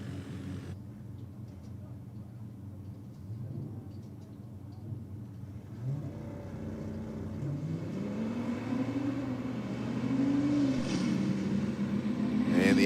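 Two drag cars racing, an Audi RS3 against an RB-powered VL Calais, their engines a steady distant roar that rises into rising revving sweeps toward the end, with crowd and track ambience beneath.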